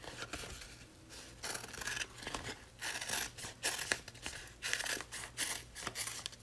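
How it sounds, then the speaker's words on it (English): Scissors rough cutting applique fabric just removed from an embroidery hoop, with repeated close snips and rustling of the cloth in an irregular rhythm, no talking. "I like to just rough cut this out to get all the excess out of the way"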